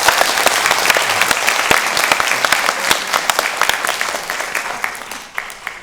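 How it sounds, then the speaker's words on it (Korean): Audience applause at a 2023 international suicide-prevention seminar held at a national assembly forum: dense, sustained clapping from a sizeable crowd that gradually thins and tapers toward the end. "다시 한번 큰 박수 부탁드립니다"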